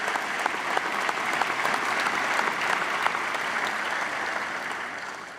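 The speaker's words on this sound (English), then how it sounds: "Please join me in a round of applause for the board." Audience applause fills a gala awards dinner in sustained, dense clapping for the board, steady and close, fading slightly toward the end with no speech over it.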